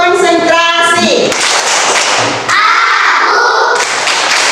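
A classroom of children performs a concentration clapping routine, with sharp rhythmic hand claps and thumps mixed with children's voices chanting together nearby.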